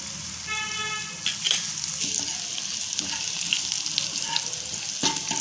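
Garlic roasting in a pan for a palak dish, with a loud, continuous sizzle and crackle, broken by several sharp clanks and scrapes of stirring against the pan.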